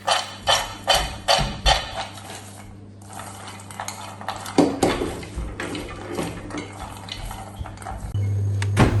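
Chili powder stirred into vegetables for vegetable fried rice in a pan, with rhythmic scraping taps of a spoon roughly twice a second, then looser clattering mixing over a steady low hum.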